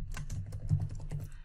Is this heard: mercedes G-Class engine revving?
no